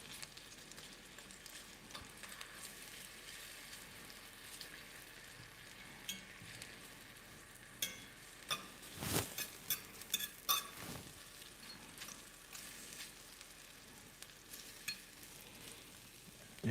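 Onions sautéing in a pan give a quiet, steady frying sizzle, with a few louder stirring scrapes and clinks around the middle of the stretch and no talking.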